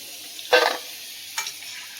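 Pieces of elephant foot yam frying in hot oil, a low steady sizzle punctuated by two brief louder bursts of stirring or turning in the pan, no voices.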